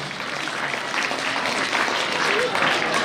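Steady applause from an audience at a government school Republic Day honouring ceremony, dense clapping heard at moderate volume throughout.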